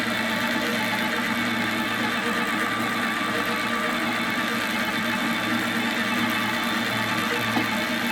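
Single-wheel electric power tiller running at full throttle, a steady loud motor drone with constant vibration and no breaks, close by and alone throughout.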